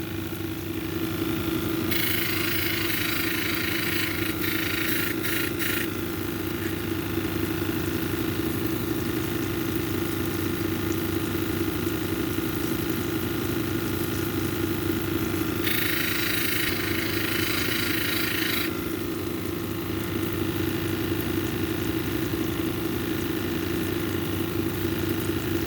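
A lapidary polishing machine running steadily while a tiger's eye cabochon is polished, a constant motor hum with two spells of louder grinding hiss as the stone is pressed to the wheel.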